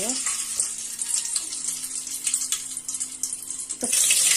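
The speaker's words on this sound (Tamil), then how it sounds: "இப்போ எண்ணெயும் காஞ்சிருச்சு பாருங்க பட்டை கிராம்பு மட்டும் போட்டாச்சு" Cinnamon and cloves sizzle in hot oil in a pan, a close, steady crackle and hiss with a few clinks of utensils and a louder burst near the end.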